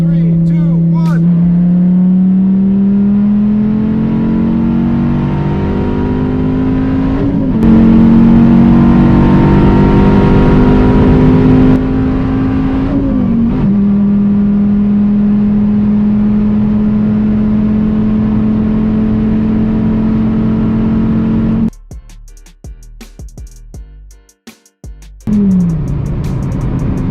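Dodge Viper ACR accelerating hard from 75 mph in third gear without nitrous during a speed test, a loud sustained engine roar rising steadily in pitch, then abruptly lifting off and dropping away before a brief return.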